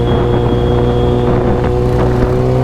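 A loud superbike exhaust drones continuously at close range inside a tunnel, a heavy rumbling roar with faint crackling pops running through it.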